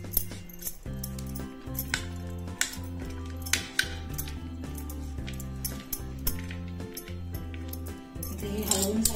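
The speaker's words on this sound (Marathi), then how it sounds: "बघा चमच्याने येत नसेल हाताने हलवा कारण हे सगळे एकत्र झालं पाहिजे, हे असं हलवून घ्यायचं." Carrot salad is mixed in a bowl, giving light spoon clinks and soft stirring scrapes at irregular intervals over steady background music.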